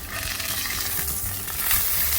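Salmon fillet laid skin-side down in hot oil, a loud, close, continuous searing sizzle that swells slightly near the end, with no one talking.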